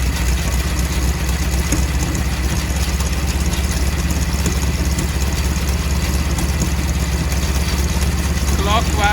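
Old air-cooled Volkswagen Beetle engine idling while its carburetor is adjusted, a loud, steady low rumble with a constant throb running the whole time and a faint clatter near the end.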